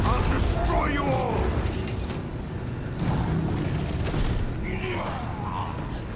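A video game trebuchet fires with creaking, ratcheting mechanical clunks and dull booms, set among busy battle noise while a player talks.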